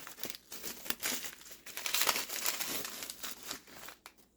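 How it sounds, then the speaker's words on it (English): Crinkling of a plastic bag holding desiccant, packed with a nitro RC buggy engine, close and continuous with sharp crackles and brief pauses, faint overall. "Plastic bag with desiccant."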